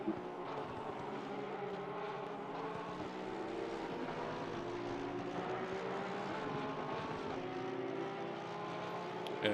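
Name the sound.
race cars at Imola in a racing video game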